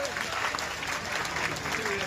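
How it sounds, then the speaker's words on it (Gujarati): An audience claps at a community gathering, a steady dense patter of many hands at moderate level that continues evenly throughout, with faint voices underneath. "બાલાજી માટે એક વખત ફરીથી જોરદાર તાળીઓ થઈ જાય"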